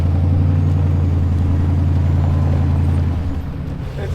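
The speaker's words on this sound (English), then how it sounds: "So we have Ken from the Rubicon Trail Foundation driving the wrecker right now." Wrecker tow truck with rear steer crawling along the rocky Rubicon Trail, its engine a loud, steady low rumble that holds throughout and eases slightly near the end, with no talk.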